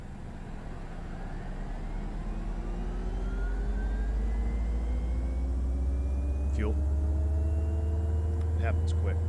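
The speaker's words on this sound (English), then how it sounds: "We'll go ahead and start engine number 1." Engine 1 of a Citation X business jet starting up in a flight simulator: a low rumble that builds steadily while a whine rises slowly in pitch, with a few brief clicks near the end.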